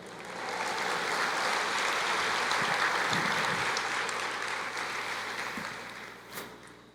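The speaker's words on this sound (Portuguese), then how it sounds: "aplauda o Senhor" Applause from a church congregation at a sermon seminar, a sustained broad wash of clapping that swells quickly and holds steady for several seconds before tapering off.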